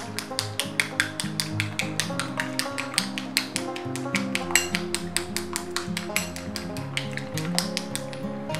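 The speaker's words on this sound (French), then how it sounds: "Nous allons venir maintenant mélanger nos 2 produits" Two natural cosmetic ingredients being stirred together in a container, producing a rapid, regular series of sharp clicking taps from the utensil, continuous and close with no voices.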